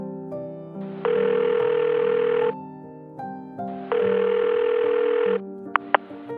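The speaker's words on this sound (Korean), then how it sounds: "저는 결국 며느리에게 전화를 걸었습니다." Telephone ringback tone while placing a call: two long, steady buzzing rings separated by a pause over a faint background hum, followed by a couple of short clicks as the line connects.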